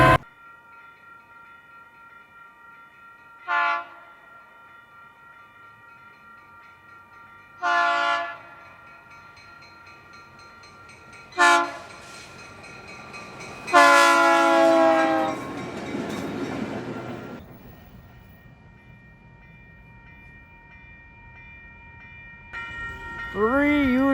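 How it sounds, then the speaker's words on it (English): Several Utah Railway trains pass near Woods Cross on a sunny day, with repeated loud horn blasts in short bursts and a long sustained horn sequence over steady rail rumble, ending with another horn. "3 Utah railway trains all in one."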